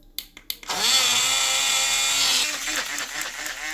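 A repaired household blender filled with water runs steadily for about two seconds after a few sharp clicks of the switch, a loud whirring motor drone that then drops to a lower, rougher hum.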